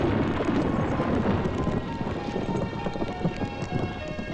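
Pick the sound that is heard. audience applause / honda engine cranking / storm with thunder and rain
storm with thunder and rain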